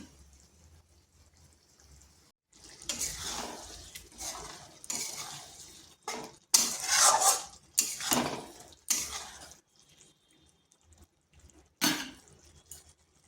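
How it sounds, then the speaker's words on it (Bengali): Wheat-flour pasta coated in spices is stirred in a pan over slow to medium heat, with bursts of clattering utensil scrapes and clinks separated by quiet gaps and a faint simmer. "এরপর ভালো করে এই মশলার সাথে পাস্তাগুলো মিশিয়ে নিচ্ছি আর দুই মিনিট ফুটিয়ে নিচ্ছি"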